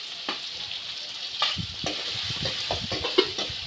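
Fenugreek seeds sauté in hot oil in a pan for a fish curry, a bright close sizzle with scattered crackles and a few soft stirring taps, no voices.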